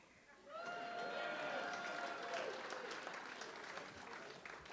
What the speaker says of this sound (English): Let me ask, by applause, how many people in the room tonight are over the age of 15?